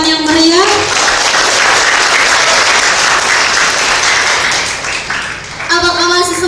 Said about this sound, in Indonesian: Sekali lagi kita beri tepuk tangan yang meriah.